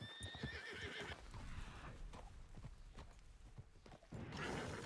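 A horse whinnies loudly at the start in Red Dead Redemption 2, followed by clip-clopping hooves and busy game ambience, with another burst of noise near the end.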